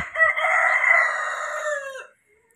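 A single Rhode Island Red rooster crows loudly and close by, one long drawn-out call that cuts off abruptly, followed by silence.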